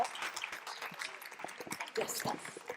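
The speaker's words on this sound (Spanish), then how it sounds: "Un fuerte aplauso, por favor, para Teresa." Applause from a congress audience at a Spanish-language conference session: fairly quiet, brisk clapping across the hall, mixed with some voices.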